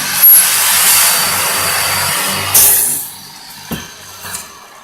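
A Blum Minipress boring into a wooden board without dust extraction: a loud, high whining drill bite that cuts off sharply, then a second burst, a few clunks from the press and a quieter tail.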